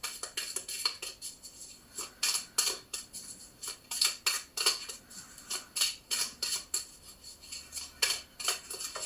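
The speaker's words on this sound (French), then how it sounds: "Je fais une coupe comme d'habitude et je tire 5 cartes." Osho Zen tarot cards are cut and drawn in a quick, irregular series of crisp, close card snaps and slides, each brief and fairly faint, with no talk.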